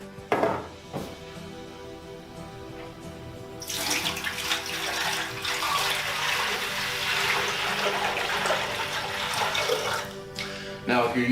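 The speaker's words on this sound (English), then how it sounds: "you're going to want to fill the Sirena up to the minimum level" Water runs steadily into the water basin of a Sirena water-filtration vacuum, a continuous rushing fill after a few brief knocks at the start, close and fairly loud with no talking.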